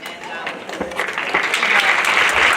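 Audience applause at a public forum on a city water supply, a broad rising wash of clapping that swells and stays steady for a couple of seconds.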